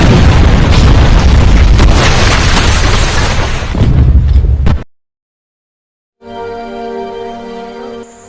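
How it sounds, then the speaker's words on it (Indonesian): A loud, sustained explosive roar from a boat packed with explosives blowing up rumbles for several seconds, cuts to sudden silence, then faint tonal music fades in. "Pemanah api dan meriam langsung menghajar sebelum kapal itu mendekat dan boom."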